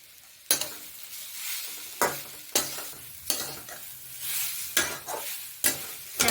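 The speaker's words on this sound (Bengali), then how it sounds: "এর জন্য একটু ঘি দিচ্ছি, দিয়ে নারকেল কোড়াটা দিয়ে দিচ্ছি, দিয়ে এটাকে নাড়ছি" Grated coconut fries in ghee while a spatula stirs it, about seven sharp scraping strokes against the pan spaced irregularly over a soft, low sizzle.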